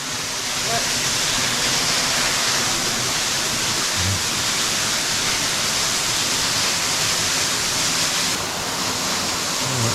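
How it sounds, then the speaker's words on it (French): A waterfall roars as a loud, dense, unbroken rush, heard up close from a path running behind the falling water. "et on passe derrière la cascade"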